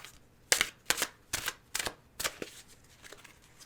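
Tarot cards shuffled by hand in a quiet room, a series of about seven crisp riffling bursts in an uneven rhythm, close and fairly soft, with no voices.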